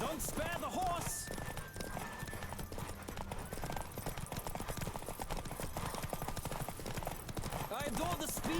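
Horse hooves clip-clop in a fast, steady gallop during a race in The Witcher 3, with dense continuous hoofbeats, occasional brief whinnies and game voices speaking over the run.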